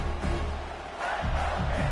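Stadium crowd noise in College Football 26, a broad steady roar of fans hollering for the Gators, swelling slightly near the end with no talk over it.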